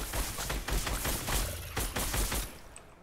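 Assault rifle fire in the Fortnite video game, with a Master Chief bundle weapon check: a steady run of rapid, loud shots repeating for about two and a half seconds before tapering off.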